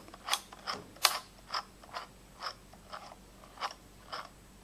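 Hand-operated sewing machine turned through a stitch, giving a string of about a dozen small, clicky mechanical ticks in an irregular rhythm, close and fairly quiet with nothing else in the background.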